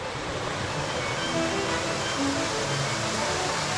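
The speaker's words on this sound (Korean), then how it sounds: "규모가 가장 큰 폭포는 협곡 입구에 있는 높이 10m의 등선 폭포입니다." Deungseon Falls, a 10 m waterfall at the entrance of a rocky gorge on Samaksan mountain, roars in a steady, dense rush of water that stays constant throughout.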